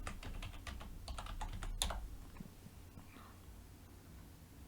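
Fingers tap out a password on a computer keyboard, a quick close run of light clicks that thins out and stops after a couple of seconds, followed by near silence.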